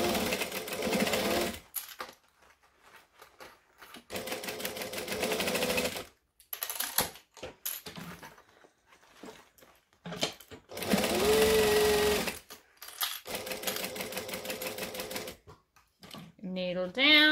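A sewing machine stitches a hexagon bag in several bursts of rapid whirring, each a second or two long, separated by pauses where a voice talks between the runs.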